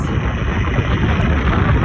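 Strong wind buffets the microphone outdoors, a constant loud low roar with no pauses.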